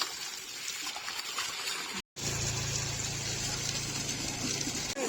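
Water pours and gushes like a fountain from an overhead outlet at an outdoor bathing spot, a steady, loud broadband rush that cuts out briefly partway through and then resumes just as strongly.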